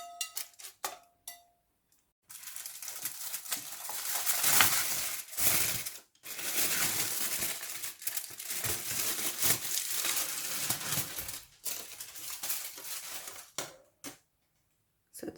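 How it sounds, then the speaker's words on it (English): A baking tray of oil-free crispy chicken pulled from the oven and its foil peeled off, with metallic clanks, scrapes and a long crinkling rustle of foil, close up. "Now we have to take this out and take the foil off."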